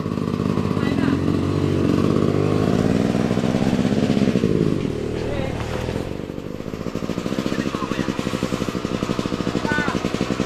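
A motorcycle engine runs on a muddy mountain trail, revving loudly and straining, then settling into a rapid, rough idle that chugs on, with people talking nearby.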